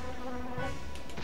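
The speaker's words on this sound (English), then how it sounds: "it's exactly like house flies. They're constantly buzzing around your head and making annoying noises." Buzzing flies from Castlevania: Symphony of the Night, a steady insect drone at moderate level with faint tonal game sounds beneath, no talk.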